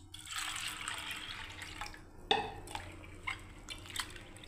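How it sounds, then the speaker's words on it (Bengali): Soaked mung dal is rinsed in water, with soft, faint sloshing and dripping nearby and a few small sharp clinks in the second half. "আরেকবার ভালো করে জল দিয়ে ধুয়ে নিচ্ছি।"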